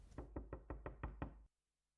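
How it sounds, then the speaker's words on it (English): Knocking on a door in the video game Dungeon Heist, seven quick, evenly spaced knocks at a steady rhythm, loud and close, ending abruptly into silence. "It's knocking on the door."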